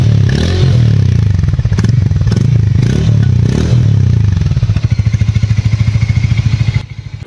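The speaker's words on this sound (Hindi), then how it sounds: "अब मैं स्टार्ट करता हूं दोस्तों ये बाइक एंड सुनाता हूं आपको इस बाइक का एग्जॉस्ट साउंड" A Hero Mavrick 440 motorcycle on the move, its exhaust giving a loud, close, steady thumping drone that grows into a rapid pulsing beat toward the end.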